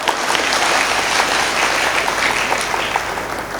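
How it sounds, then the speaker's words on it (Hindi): Loud, dense applause from an audience at a Hindi comedy poetry gathering, a steady wash of many hands clapping close and sustained throughout. "यहाँ से लेके और वहां तक हाथ उठाकर बजाओ ताली"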